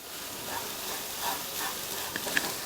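Cabbage mixed with masala and salt being stirred in a pan, a soft steady sizzle with light scraping strokes and a few small clicks of the utensil, close and fairly quiet.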